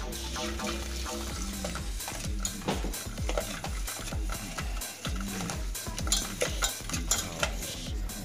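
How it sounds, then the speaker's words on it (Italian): Hot milk is poured into a pot of cooked butter and flour for béchamel and stirred, with steady scraping, sizzling and liquid sloshing close by and no talk. "Andiamo a versare il latte caldo dentro la pentola con il burro e la farina."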